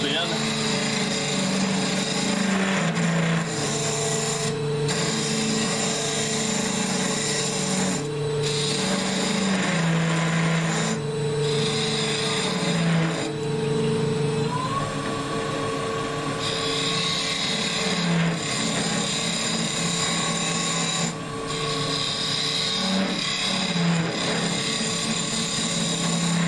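Spindle gouge cutting into spinning end grain on a wood lathe, hollowing and flaring the interior; a steady continuous whir and scraping hum with shifting tone, loud and close, with someone talking over it throughout.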